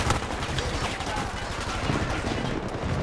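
Dense, continuous gunfire rattles through a match of a shooter game featuring the MTAR rifle, with rapid overlapping shots and impacts at steady loudness for a few seconds, faint voices mixed underneath.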